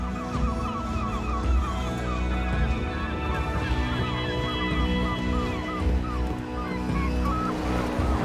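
Hungry seagulls calling over the sea, a dense chorus of overlapping squawks and cries close by, with waves and surf washing underneath throughout.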